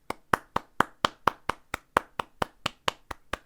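About fifteen hand claps at a steady, even pace, crisp and close, with no other sounds.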